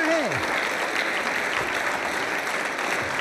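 An audience at a college Holi quiz show claps in a dense, continuous wash of applause, with a brief vocal sound at the start over the clapping.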